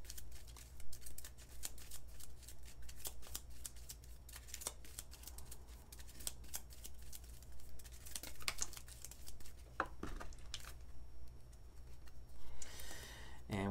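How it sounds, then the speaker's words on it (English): Cards from a GI Joe deck-building game are shuffled quickly by hand, a close run of rapid papery flicks and riffling clicks, ending in a brief louder rustle. "Target player draws 1 card, so I have to do a quick shuffle."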